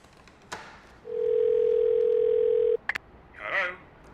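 Steady telephone dial tone holds for about two seconds and cuts off, preceded and followed by short clicks and handset rustle, with a brief faint voice-like sound at the end.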